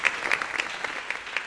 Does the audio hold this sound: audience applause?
yes